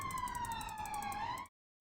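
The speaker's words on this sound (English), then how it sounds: "Ignore the sirens going past. Apparently I live on a route that most ambulances and police cars take." An ambulance or police siren going past outside a home, a loud steady wail with a slow pitch sweep that cuts out abruptly near the end, then briefly returns.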